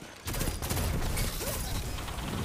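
Automatic gunfire from the Trespasser weapon in a video game, a dense rapid burst of shots after a brief quiet start, loud and continuous to the end, with no talk.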